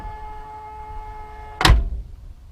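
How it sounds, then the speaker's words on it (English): The door of a 1970 Chevrolet Chevelle SS454 with a 4-speed and LS5 engine shuts with a single solid, close thunk over a steady buzz from the ignition key. "the door shuts"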